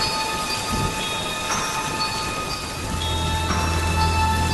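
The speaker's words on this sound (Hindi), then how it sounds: "घर पहुंचने के बाद गुल्ली और शॉन ने देखा कि बाबा घर से बाहर बैठकर बारिश का मज़ा ले रहे हैं" Steady heavy rain pours throughout an animated horror story scene, with low rumbles of thunder rolling in under it, a constant dense wash with no voices.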